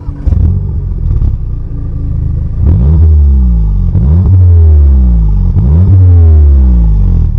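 A 2-litre TSI car engine revs loudly and close, with several rising vroom bursts that climb and fall back in a repeating pattern over a deep rumble.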